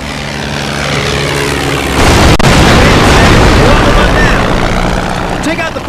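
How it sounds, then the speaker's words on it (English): A bombing run in the Captain America video game brings loud, rumbling explosions over a droning aircraft engine, with a continuous blast-heavy roar that swells midway and stays dense to the end. "Bombing run incoming!"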